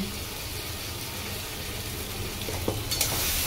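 A spice paste mixed with sour yogurt and salt sizzles steadily in a hot pan, a dense, even frying hiss with soft scraping from stirring near the end.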